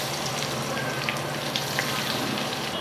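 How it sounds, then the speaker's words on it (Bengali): Potatoes sizzling steadily in a pan of hot oil, a close, even frying hiss with small crackles and pops, no talking. "এবার দুটো আলু একসঙ্গে ভালো করে আমি ভেজে নেব।"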